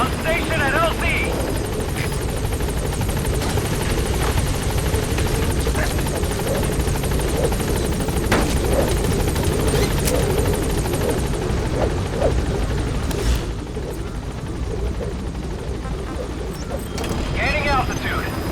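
In Metal Gear Solid V, a helicopter gains altitude with a steady, loud rotor drone and whine throughout, game radio chatter and scattered effects mixed over the constant roar.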